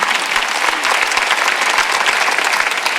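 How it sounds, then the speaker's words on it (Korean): A church congregation at a Sunday worship service claps hard together, a loud, dense and steady burst of applause filling the room. "아 세게 쳐요 박수 치려면."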